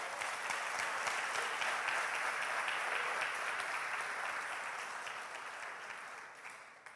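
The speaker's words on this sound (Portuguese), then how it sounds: "Glorifica a Deus, aplauda o Senhor." A church congregation bursts into sustained applause during a sermon, dense clapping filling the hall at full strength before gradually thinning out toward the end.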